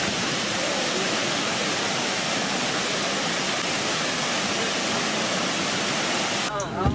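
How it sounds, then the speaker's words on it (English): Bridal Veil Falls in Skagway pours down with a loud, continuous broadband roar heard close by. The rush stays even for several seconds before a brief change at the very end. "there is a waterfall up here that will just give you a small indication of how much water there is here"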